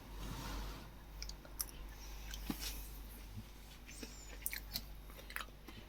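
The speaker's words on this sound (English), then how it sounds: "The onion's a bit crunchy." Crunchy chewing of onion in lobster thermidor close to the mouth, with irregular crisp bites and clicks over a quiet low rumble.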